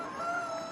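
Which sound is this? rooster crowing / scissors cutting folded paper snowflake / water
rooster crowing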